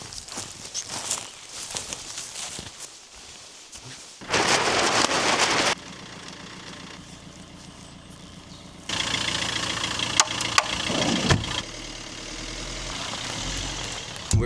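Steady rain patters on a micro camper van in cold, awful weather, a continuous hiss that swells louder in bursts, with a low engine idling underneath and faint movement noises.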